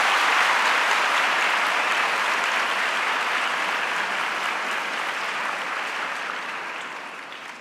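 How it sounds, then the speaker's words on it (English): Dense, steady applause from a live audience at a quiz show event at Sathya Sai Grama, sustained and loud throughout before gradually tapering off toward the end. "A big round of applause to all the participants for their spirited participation"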